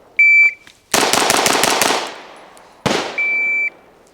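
A Bul Armory EDC Pro pistol fires six rapid, loud, close shots in quick succession, bracketed by electronic shot-timer beeps before and after, with no talking.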